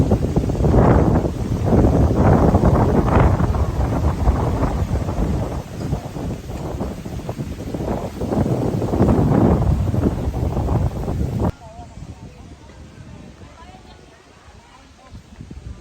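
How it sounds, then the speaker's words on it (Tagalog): Strong gusts buffet the microphone in heavy, rumbling surges, easing briefly before dropping to a quieter rush near the end. "malakas ang hangin dito, presko"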